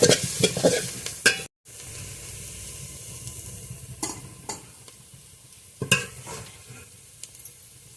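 Cinnamon, cardamom and cloves sizzle in a pot of hot oil for khichuri, a steady crackling fry with a few louder stirring scrapes and a brief silent break, close and without talk.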